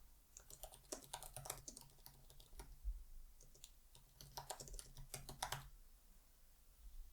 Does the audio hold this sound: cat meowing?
no